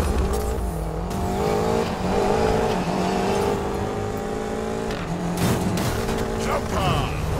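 Off-road race cars in Need for Speed Payback roar steadily with revving engines, shifting pitch and occasional tire squeal, loud and close throughout, with brief voices over the racing.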